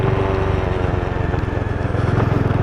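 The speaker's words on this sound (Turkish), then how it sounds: "Cazır cuzur ses geliyor önünden." A new 2021 Bajaj Dominar 400 motorcycle idles close up with a steady, throbbing engine note, and a faint rattle comes from the front over the constant loud drone.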